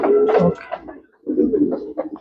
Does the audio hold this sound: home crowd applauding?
no